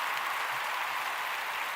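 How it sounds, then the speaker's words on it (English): Steady applause sound effect played from a soundboard during a talk show, even and continuous with no voices over it. "We gotta clap it up"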